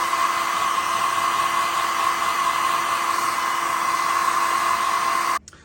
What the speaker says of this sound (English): the hair dryer that I'm using right here to heat up the figure is a fairly weak hair dryer